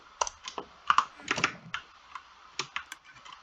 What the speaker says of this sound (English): We can hear some clicking, and this is from the top droppers.